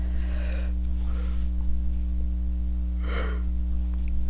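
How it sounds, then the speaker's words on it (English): A person yawns twice, with long breathy, open-mouthed exhalations close to the microphone over a constant low electrical hum, and no speech. "Sorry, I keep yawning a lot."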